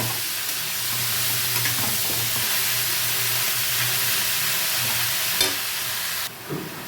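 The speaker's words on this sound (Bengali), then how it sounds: "এখন লাউটাকে একটু সময় এই ফোড়নের সাথে একটু নাড়াচাড়া করে নেব" Bottle gourd pieces stir-fried in hot oil with tempering spices for a vegetarian lau ghonto make a steady, close frying sizzle, with occasional stirring scrapes and a brief clatter near the end.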